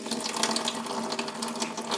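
Water running over soaked chickpeas as they are drained and rinsed, a steady close splashing stream from a tap filling and pouring without pause.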